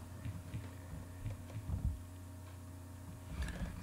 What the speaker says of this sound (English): You can hear its heartbeat from its butt.